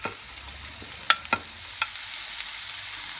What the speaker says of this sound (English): I'm going to go ahead and cook the bindi for a couple of minutes and stir it in between